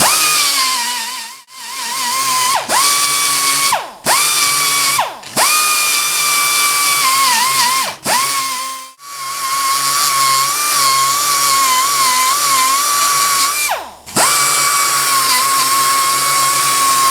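Power drill grinding rust from inside a jug, loud high-pitched whine running in repeated bursts of a few seconds each, separated by short pauses as the drill stops and restarts.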